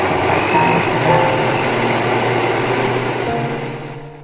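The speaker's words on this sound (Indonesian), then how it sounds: "kemudian nyalakan blendernya dengan kecepatan sedang" Kitchen blender running at medium speed, grinding shelled corn kernels with a little water: a loud, steady motor whir with a droning hum that winds down near the end.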